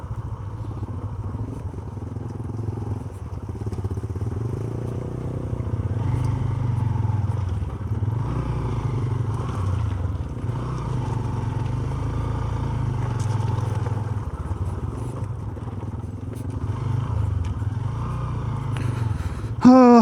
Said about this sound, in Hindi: उस पर स्लिप मार रही है बाइक, तो इसलिए कुछ ज़्यादा ही डांस करा रही है।